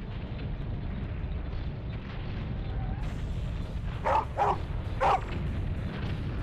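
Several short barks from a dog in a room, a cluster of three quick yips near the end, heard over steady game noise and background hum.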